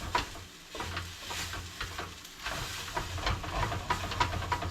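Oatmeal fries in a pan with a steady sizzle, broken up by repeated scraping and stirring strokes, close and moderately loud with no voices.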